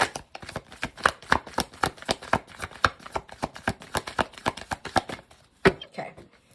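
A deck of cards being shuffled up close, a rapid run of crisp riffling clicks in steady bursts, with a brief pause near the end.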